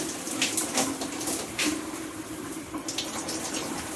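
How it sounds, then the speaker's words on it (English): Running water from a tap rinsing shampoo out of hair, a steady close splashing stream with small shifts as the hair moves under it, no talking. "You want to rinse really, really well."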